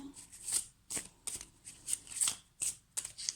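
Tarot cards being shuffled and drawn during a reading, giving repeated crisp riffling bursts at a fairly steady rhythm, close and moderately loud, with no voices.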